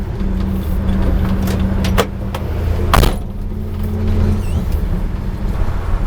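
A 1986 GMC Square Body truck with a 4-speed manual pulls away in second gear, its engine droning loud and close, with a couple of sharp clunks and no talk.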